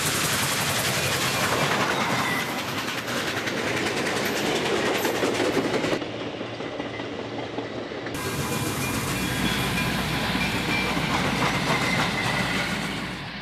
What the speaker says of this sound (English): Train 190 is the local mail accommodation between Harrisburg and Allentown via Reading.